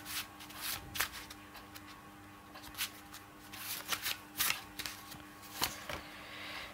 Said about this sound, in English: let's get some cards from my deck